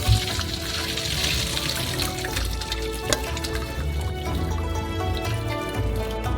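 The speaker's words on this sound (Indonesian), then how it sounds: "Lalu tiriskan melalui saringan." Cooked noodles drained through a strainer, with a steady, close rush of pouring water and liquid splashing through the mesh that runs for several seconds without pause.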